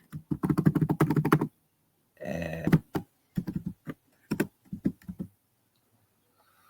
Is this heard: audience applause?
no